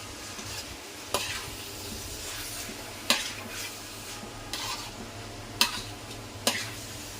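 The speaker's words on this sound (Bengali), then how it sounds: "আর একটু ভাজা ভাজা করে নামাই নেব" A shrimp dish fries in a pan, a quiet even sizzle broken every second or so by sharp scraping clacks of a spatula stirring against the metal, close and without any talking.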